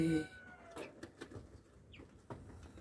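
Three-week-old chicks, a cross of Rhode Island and native chicken, give a few faint, scattered peeps and chirps at low level amid quiet background rustle.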